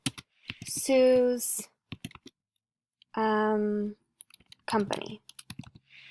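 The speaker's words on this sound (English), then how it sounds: "Let's go ahead and type in deaf person" Computer keyboard typing, a few quick soft key clicks scattered between stretches of close speech from a person talking.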